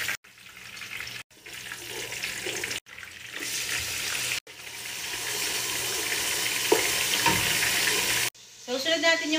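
Garlic sizzles and crackles in hot cooking oil in a home kitchen, a steady broadband frying hiss broken by a few brief cuts, with faint clinks near the end.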